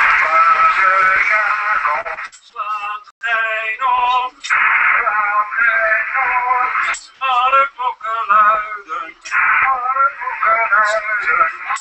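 Singing bounced off the moon through the Dwingeloo radio telescope returns as a continuous, radio-filtered voice with a narrow, tinny band. Dense sustained tones shift and break repeatedly over about twelve seconds at a steady, loud level.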